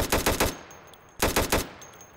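Rapid bursts of rifle gunfire in a Minecraft Crafting Dead mod game, a quick rattling volley followed by a pause and a second loud automatic burst.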